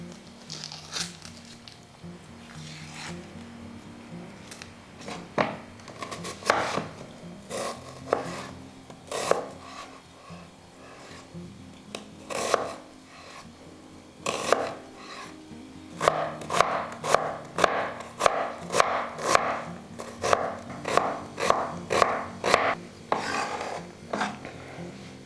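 A knife chops an onion on a cutting board for a simple homemade pizza sauce, with sharp, close strikes that start sparse and irregular, then quicken into a steady rhythmic series of cuts.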